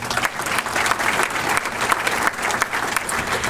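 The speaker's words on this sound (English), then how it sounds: "So give her a round of applause." Steady applause from a dinner audience at a chamber of commerce annual dinner, dense clapping sustained throughout at a consistent level with no pauses.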